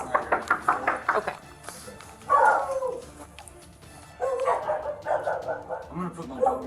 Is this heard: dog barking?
yes